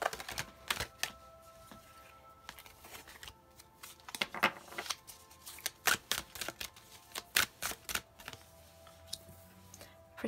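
Oracle deck cards shuffled by hand, producing a run of crisp riffling flicks and soft slaps in uneven bursts, close and fairly quiet, with no talking.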